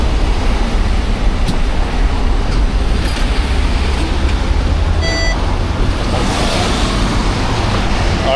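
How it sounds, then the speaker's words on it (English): Busy Hong Kong city traffic on a rainy day gives a continuous loud roadway roar, with a short electronic beeping tone rising briefly from the wash midway. "I don't know if you can hear me, all this traffic."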